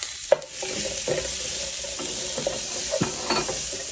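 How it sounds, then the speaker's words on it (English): Chopped onion sizzles in a hot pan for a rajma base with green chili, a steady frying hiss broken by sharp stirring scrapes and clatters. No one speaks. "onion, saute it for about a minute."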